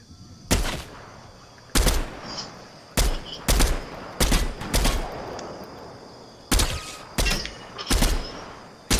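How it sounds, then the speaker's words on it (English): Gunfire in the Fortnite battle royale game while under sniper attack: a series of sharp, loud shots arriving singly and in quick pairs at irregular intervals over a quieter ambient background. "But I'm being sniped at"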